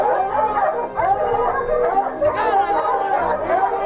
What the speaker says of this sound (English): The dogs can't get to her, so all they can do is bark.